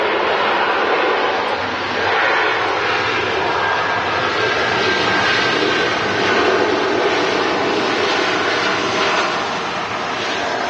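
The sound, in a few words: TUI Airways Airbus A320 jet aircraft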